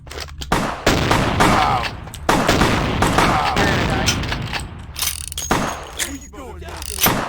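Rapid gunfire bursts from a vampire-themed video game, loud and repeated across the stretch, mixed with game effects while a player talks over the action.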